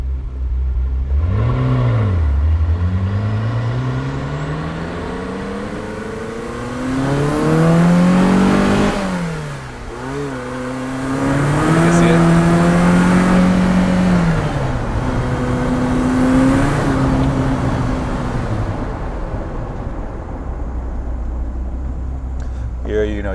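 1985 Ferrari 288 GTO turbo engine pulling hard, pitch climbing in repeated surges with gear changes between them and a whooshing boost push, heard from inside the car while a person talks over it.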